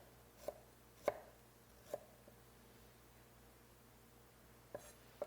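A knife slices ginger thinly on a cutting board, making a few sharp, separate taps in a quiet room, spaced irregularly with a pause before the last two.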